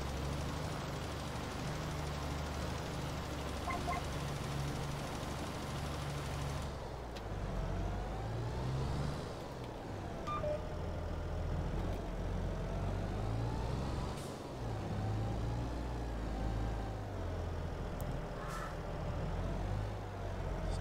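A tractor pulling a plough across a field in a farming video game gives a steady, low engine drone that runs unbroken for the whole stretch, fairly close, with no talk.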